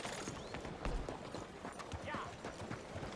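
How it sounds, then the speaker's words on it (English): Horse hooves clip-clop at a steady, brisk pace in the video game Red Dead Redemption 2, heard as quick, distinct knocks over a faint background bed. "Come on, horsey. Follow me."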